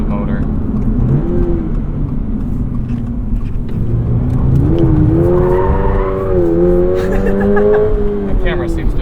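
The engine of a 2022 Toyota GR86 accelerates on the road, a loud rising and falling rev climbing in pitch through the gears, up close inside the cabin over steady road noise.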